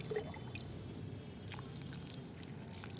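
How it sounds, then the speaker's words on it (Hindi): Water poured generously over newly planted candytuft (Iberis) seedlings in a garden, a faint, steady trickle with soft scattered drips and splashes, heard alone. "खूब पानी दे देना पहली बारी"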